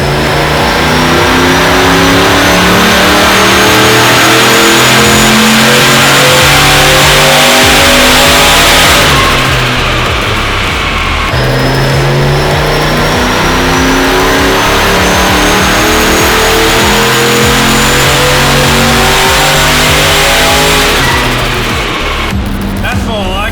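A turbocharged LS1 V8 in a Holden VY ute, running 6 PSI spring pressure, revs hard and loud up through the range, drops briefly, then climbs again in sustained roaring pulls close to the microphone.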